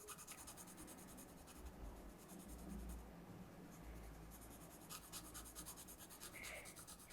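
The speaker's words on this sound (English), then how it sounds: "I'm just going to move my pencil back and forth to colour in this white space." A coloured pencil is rubbed back and forth on paper to fill in white space, giving a soft, faint, steady scratching with rhythmic strokes, close up and alone.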